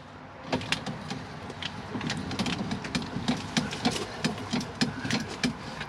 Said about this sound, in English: So you can raise the bed up to give you a larger load height in the garage.